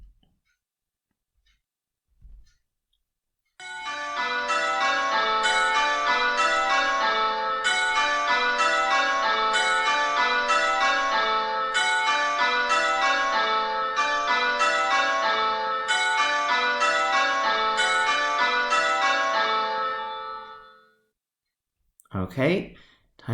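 Church bells ringing in queens order, a rapid steady cascade of overlapping metallic strikes repeating for about seventeen seconds, with one bell dropping out of the pattern, then a brief voice at the end.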